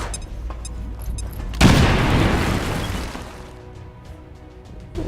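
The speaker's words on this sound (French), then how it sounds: "Grenade. Les grenades de la muerte." A grenade detonates in the video game XCOM 2, a sudden loud boom with a crashing burst that decays over a few seconds, following brief quieter game sounds.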